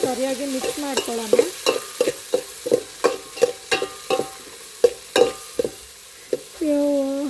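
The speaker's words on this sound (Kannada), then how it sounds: "ಈರುಳ್ಳಿ ಮತ್ತು ಟೊಮೆಟೊ ಏನು ಕಟ್ ಮಾಡ್ಕೊಂಡಿದ್ದೀನಿ ನೋಡಿ, ಅದನ್ನು ಇವಾಗ ಆ್ಯಡ್ ಮಾಡೋಣ ಇದಕ್ಕೆ ಒಗ್ಗರಣೆಗೆ." Chopped onions and tomatoes fry in a tempering for chicken curry. A spoon scrapes and stirs the pan in repeated short strokes over a soft sizzle, close by, with a brief hum at the end.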